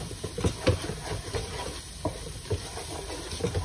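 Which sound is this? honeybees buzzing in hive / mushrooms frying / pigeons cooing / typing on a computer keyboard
mushrooms frying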